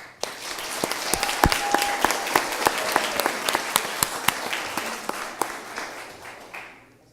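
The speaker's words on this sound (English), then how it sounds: "I hope you guys will give them a nice round of applause" Audience applause at a Livingston city council meeting for a group of sophomore and freshman students, a steady wash of many hands clapping that starts abruptly, holds for several seconds and tapers off at the end.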